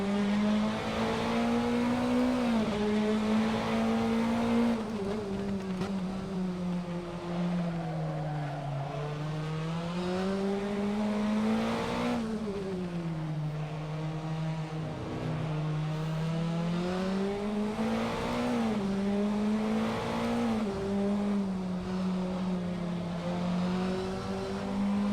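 A Caterham 420R race car in Assetto Corsa, driven at Okayama, holds a loud, steady engine note close up that rises and falls through gear changes for the whole stretch.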